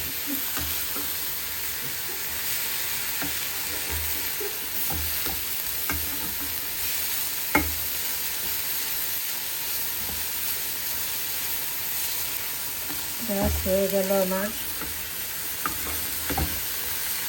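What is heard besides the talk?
shrimp frying and being stirred in a pan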